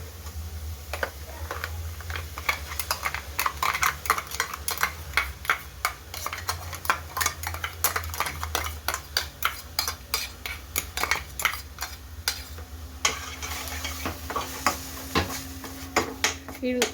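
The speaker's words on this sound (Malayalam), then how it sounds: "ഇതിൻ്റെ പച്ച മണം മാറുന്ന വരെ നമുക്ക് നന്നായിട്ട് സോട്ടേ ചെയ്യാം" Tomato, chilli and ginger-garlic paste sautéing in a pan, with a steady run of close, rapid spoon clicks and scrapes against the metal over a low background hum, continuing throughout, with a voice speaking at times.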